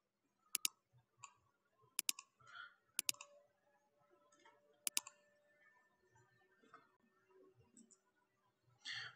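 A computer mouse gives a few crisp, isolated clicks spaced a second or two apart, quiet and close, with faint scattered desk noises in between.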